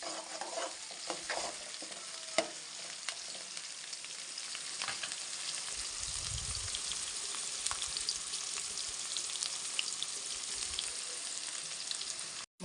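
Turmeric sizzling in heated oil, a soft continuous fry with light stirring scrapes and occasional spatter crackles, close by and fairly quiet, with no voices present.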